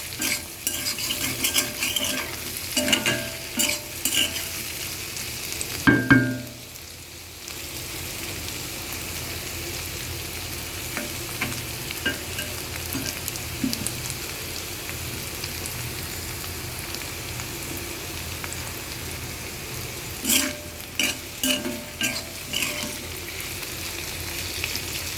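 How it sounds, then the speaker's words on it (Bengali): Sweet pumpkin frying in a pan sizzles steadily for a long stretch, with clinks and scrapes of a utensil stirring in bursts near the start and end and a short quieter gap partway through. "এই দিক দিয়ে আবার মিষ্টি কুমড়া ভাজিও করতেছি"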